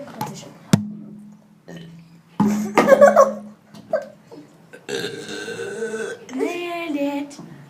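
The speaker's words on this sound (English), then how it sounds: "Okay, burping competition." Several deliberate burps from a person in a burping competition, loud and close, one low sustained belch early on followed by more bursts, with laughter and other vocal noises mixed in.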